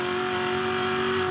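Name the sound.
V8 ute race car lifting off the throttle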